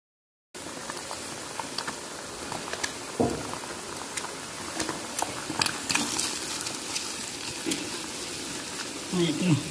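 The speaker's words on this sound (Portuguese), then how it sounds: "Aqui, fritando o ovo." Eggs frying in a pan with a steady close sizzle and crackle, a few brief clinks of utensils, cooking in a home kitchen.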